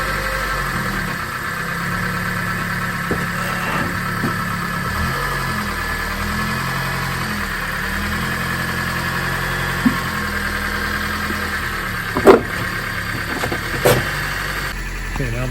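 Honda Fit, third generation, engine running steadily at low speed as it drives up onto ramps, a constant mid-pitched hum with a faint rattle, a few clunks and knocks near the end.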